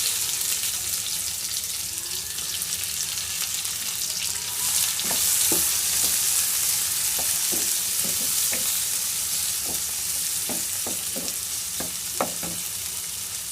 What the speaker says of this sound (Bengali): পেঁয়াজগুলো আমি একদম বেরেস্তার মতো ভেজে নিলাম।